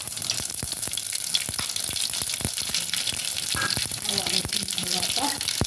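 Mustard seeds and two dried red chillies hit hot oil in a home kitchen pan, a loud continuous sizzle with rapid popping crackles close by and someone speaking briefly toward the end.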